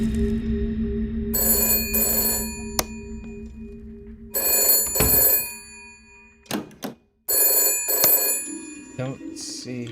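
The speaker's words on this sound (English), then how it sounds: "Can I actually answer the phone?" A telephone in a video game rings in repeated loud electronic bursts with gaps between them, while a person talks over the game sound.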